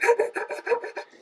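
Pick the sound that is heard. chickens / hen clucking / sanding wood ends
sanding wood ends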